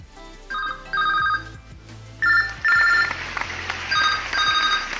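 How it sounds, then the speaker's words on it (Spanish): A phone rings for an incoming call, repeated bursts of electronic ringtone melody with short gaps between them, loud and close, with no one talking. "Acabo de pedir que me llamen por teléfono y ahora vamos a ver si suena"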